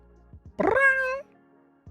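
A person imitates a cat with a single drawn-out, rising meow, loud and close, framed by a few brief soft sounds before and after.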